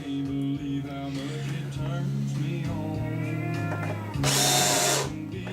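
A power drill drives a servo screw in bursts, revving up and down near the listener, with a louder high-pitched surge toward the end.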